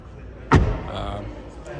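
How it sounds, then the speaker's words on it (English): A single solid thud of a 2022 Škoda Fabia Style front door shutting, close by, with faint talk and background noise around it. "Now, front doors close a little bit better."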